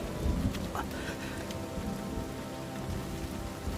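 Heavy rain pours in an anime storm scene, a dense loud hiss with a low thunder rumble underneath, no voices.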